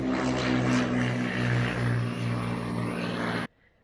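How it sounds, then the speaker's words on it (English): A propeller airplane takes off from an airport beside a quiet campground, its steady droning engine loud and close for several seconds before cutting off abruptly. "there is an airport next door, so every once in a while a plane takes off."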